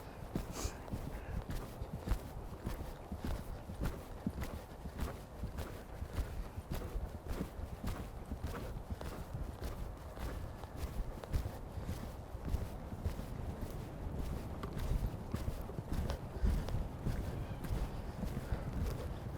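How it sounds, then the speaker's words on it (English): Horse cantering during showjumping training, with a steady rhythmic drum of hoofbeats on soft arena footing that continues close and unbroken, and faint background noise. "Literally canter right through that channel."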